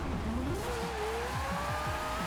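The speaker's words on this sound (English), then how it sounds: "So that's why I have a rotary in this thing. And it sounds like this." Rotary-engined limousine in Forza Horizon 4, its high buzzing engine note rising and wavering through gear changes with some tire noise, steady and fairly quiet, no talking.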